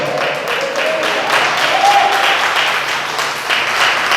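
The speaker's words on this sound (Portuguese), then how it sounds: "aplauda ao Senhor" Congregation applauding during a Portuguese sermon, a full, steady roar of many hands clapping close and loud, with voices calling out beneath.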